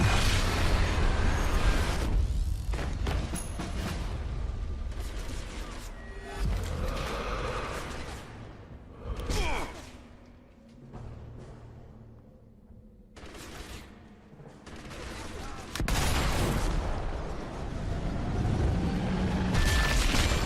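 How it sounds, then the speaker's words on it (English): A vehicle blows up in Sniper Elite V2 Remastered after its red fuel caps are shot. Loud booming blasts and bursts arrive in clusters, with rumbling decay and quieter gaps between the blasts. "If you shoot them, the vehicle explodes."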